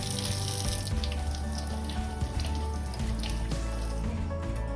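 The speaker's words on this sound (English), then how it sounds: "Gently wash it with gentle water, just to clean it a bit." Running tap water splashes steadily over raw salmon in a sink, a continuous close hiss and patter with no talk.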